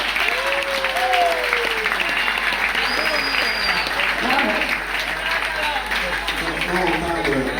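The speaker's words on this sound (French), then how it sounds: "je voudrais d'abord que ceux qui sont dans la salle applaudissent frénétiquement" Audience in a hall applauding steadily and loudly throughout, a dense continuous wash of clapping with a few whistles and shouts mixed in.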